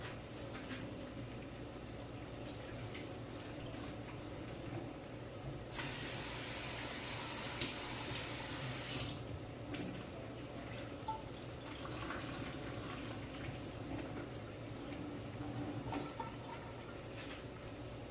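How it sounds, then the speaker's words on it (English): Steady running water from a tap pours continuously over soaked chickpeas being rinsed, with a brighter, louder gush in the middle stretch before settling back to a softer flow. "So now I'm just going to rinse out this water."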